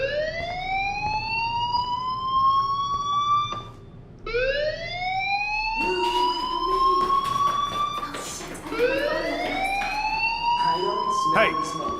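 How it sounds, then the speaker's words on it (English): Fire alarm in the video game Life Is Strange, a loud repeating siren-like whoop with rising sweeps that restart every couple of seconds, with a voice talking over it. "Hey, do you hear that fire alarm?"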